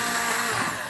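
An electric hand mixer whirs steadily, close and loud, as it beats a batter of egg, milk, butter and sugar.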